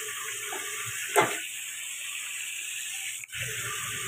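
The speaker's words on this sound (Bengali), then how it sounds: "চিঁড়াটা আমি খুব ভালো করে ধুয়ে নিয়েছি।" Flattened rice (chira) being rinsed in water at a kitchen sink, with a steady faucet-like hiss of running water throughout and a brief louder splash near the start.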